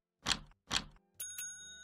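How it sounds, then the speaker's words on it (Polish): A customer rings the reception desk bell in the video game Hotel Business Simulator, with two bright metallic dings and then two thinner chimes that ring on briefly, each standing alone and clear. "O, już ktoś dzwoni, no to niech dzwoni"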